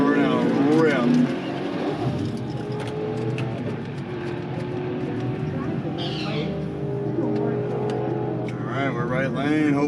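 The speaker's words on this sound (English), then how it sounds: "I'm gonna let this burnout rip." An Infiniti Q45 does a burnout at a track day, its engine droning and revving at close range while people talk over it.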